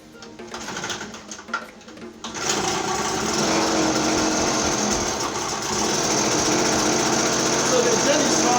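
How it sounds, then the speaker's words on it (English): A portable generator engine on test settles into a steady, continuous drone after a quieter start, nearby and fairly loud, with some talking over the beginning. "So the gen is running and the load is connected to the gen line."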